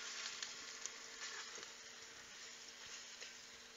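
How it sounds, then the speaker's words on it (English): Quiet, steady sizzling of top round steak searing in a hot pan after sous vide cooking, with soft crackles and pops throughout. "seems to be sizzling quite enough."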